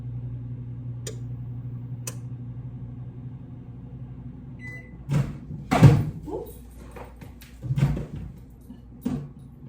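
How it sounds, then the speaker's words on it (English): A steady low hum of a microwave oven running in an RV, broken by a few clunks and bumps of its door opening and closing nearby. "I think I'm going to put it in the microwave for about a couple seconds"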